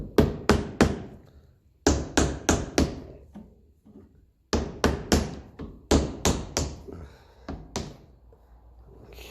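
Repeated sharp taps of a plastic hammer on an aluminium part of a Ferguson 20 diesel tractor engine during a strip-down, struck in quick clusters of three or four with short pauses between groups.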